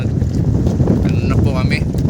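Wind buffets the microphone out on open water on a fishing trip, a steady low roar with boat engine rumble and faint voices mixed in.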